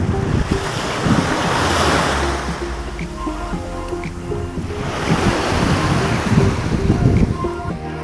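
Sea waves wash onto a beach on the west coast of Barbados, surging and receding in broad, steady swells with gusty wind noise across the microphone.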